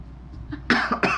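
Two or three quick, close coughs burst out after a brief quiet moment, sharp and loud against a low background hum.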